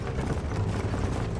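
Horses in Red Dead Redemption clip-clop along at a steady gait, the rapid hoofbeats close and loud against a rumbling background.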